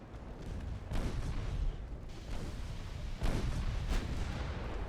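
Naval guns fire in Ultimate Admiral Dreadnoughts: four or so deep, rumbling booms land about a second apart, moderately distant, over a low continuous battle rumble.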